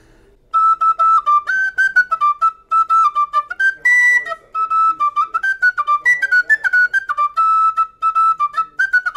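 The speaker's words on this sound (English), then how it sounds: "give you guys a little blast on the Irish whistle here" Irish whistle (tin whistle) playing a lively tune up close, a quick run of bright, clear piping notes with ornaments, alone after a moment of silence.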